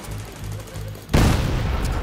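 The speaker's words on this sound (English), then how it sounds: "that's quite the explosion there, huh?" Gunfire crackles in The Division 2 as enemies advance, then a sudden loud explosion bursts out and keeps roaring under continued shots.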